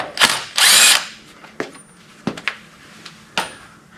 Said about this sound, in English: I'm cleaning out the threads with the bolt.